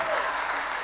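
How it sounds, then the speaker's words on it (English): A church congregation claps in a clap offering to the Lord, dense sustained applause from a crowd filling the room at a loud, even level. "Why don't you give the Lord a mighty clap offering?"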